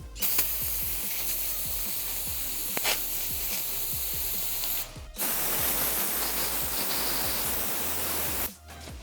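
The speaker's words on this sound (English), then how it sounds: "we're gonna give this little hose down with some brake cleaner" Brake cleaner sprayed onto a small hose from a 2003 Honda Accord, two long steady hissing bursts from the aerosol can, each stopping abruptly, with no talking.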